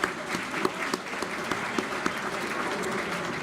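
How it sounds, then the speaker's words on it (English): A room full of people at an anniversary dinner applauding with steady, dense clapping throughout, a few louder individual claps popping out. "Please join me in a round of applause for all their hard work and effort."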